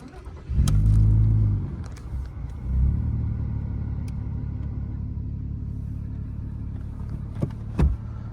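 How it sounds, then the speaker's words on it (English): A 2002 Volkswagen Golf 2.8 V6 4Motion cranks briefly and fires up, its engine flaring loud before settling into a steady, low, rumbling idle, heard close with a few small clicks on top. "I'm just grabbing the key and I'm going to start this thing up so you can hear it."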